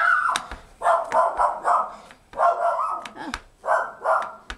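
A dog barks in short, loud bursts, several separate volleys spaced across a few seconds, close by in a quiet room during a card-making session.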